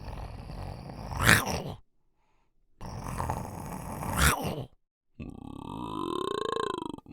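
Three guttural creature growls in a row for small game enemies, rough and throaty with a rising warble on the last, clearly a processed human voice, separated by short silences.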